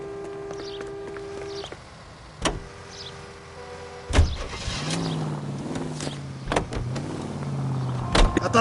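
Car in the video game L.A. Noire starting up and pulling away, with clunks like doors shutting, a mechanical whir, then a rising engine tone that shifts with acceleration, close and fairly loud, with no talking.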